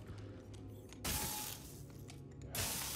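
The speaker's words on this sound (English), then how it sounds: "Let's get that restraining bolt off of you." A restraining bolt is pried off a droid in Star Wars Jedi: Fallen Order, heard as quiet mechanical clicks and ratcheting with two brief bursts of brighter metallic release noise.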